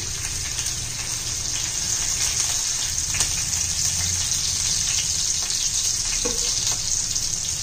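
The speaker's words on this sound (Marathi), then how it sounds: "तेल गरम झाल्यावर ठेचलेला लसूण आहे, चिरलेली हिरवी मिरची," Crushed garlic and chopped green chili frying in hot oil for a dry spinach dish, a loud continuous hissing sizzle with a few faint clinks of a utensil, close and steady throughout.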